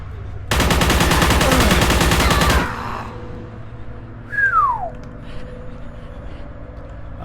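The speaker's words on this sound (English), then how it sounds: "Let's make a quick switch to the machine gun" Machine gun firing in Forgive Me Father, a loud, rapid continuous burst lasting about two seconds, followed by quieter game ambience and a descending whistling tone.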